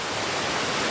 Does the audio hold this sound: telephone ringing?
no